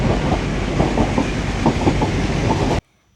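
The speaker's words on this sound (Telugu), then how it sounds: "చాలా స్లోగా వెళ్తుంది ఈ ట్రైన్." Ooty toy train rolling along the rails, steady loud rumble with rhythmic clickety-clack of the wheels, cutting off abruptly near the end.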